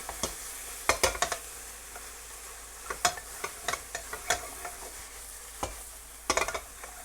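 A spatula stirs spicy Korean fish cake with gochugaru chili flakes and minced garlic in a pan, making clustered scraping clacks over a low, steady sizzle with no talking.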